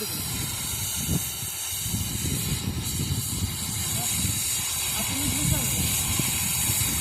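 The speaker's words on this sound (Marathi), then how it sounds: "अशा पद्धतीनं ही कटिंग चालू आहे गॅस कटिंग" Gas cutter slicing through metal at a vehicle-mounted welding rig beside a JCB boom, a loud, steady roaring hiss running continuously up close while someone talks over it.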